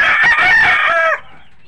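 A single loud rooster crow, close by and drawn out, ending abruptly into quiet background, among backyard chickens.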